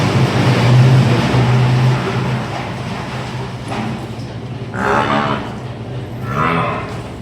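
A low moo from a Jafarabadi buffalo sounds near the start, followed by livestock shuffling and faint voices in a busy dairy-farm stable.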